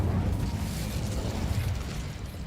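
Incendio fire spell cast in Hogwarts Legacy, a dense whooshing burst of flame with low crackling rumble that holds steadily for a couple of seconds, no voices.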